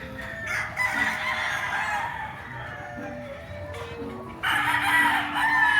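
Several gamecocks crow one after another at a gamefowl farm over a steady low hum, with clucking mixed in and a loud crow near the end.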